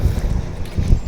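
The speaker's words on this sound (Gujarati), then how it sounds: "અને પવન ને જોરદાર છે ને ભાઈ" Strong gusts blow across a microphone beside a road while walking on a pilgrimage to Dwarka, making a loud, uneven rumbling buffet that rises and falls, with no talking.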